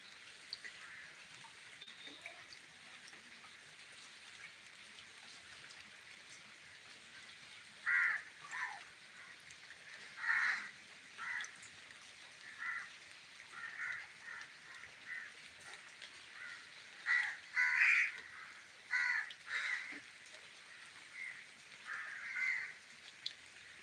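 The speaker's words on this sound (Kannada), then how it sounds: "ಕಾಗೆಗಳು ಆರ್ತಿದಾವೆ ನೋಡಿ ಮೇಲೆ" Crows caw in scattered bursts from some distance, several calls spread across a steady background hiss with no talking.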